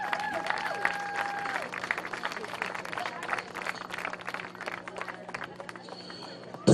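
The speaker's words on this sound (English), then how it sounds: "how about another round of applause for both teams' efforts today?" A crowd at a men's college soccer regional championship applauds both teams outdoors, moderate, fairly distant clapping running steadily with some crowd murmur.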